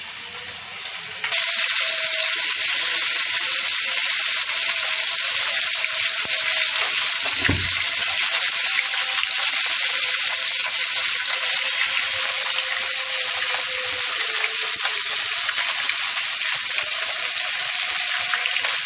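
Rohu fish pieces frying in oil in a wok, a loud, steady close sizzle that starts abruptly and holds for the whole stretch, with a brief knock midway and no talking.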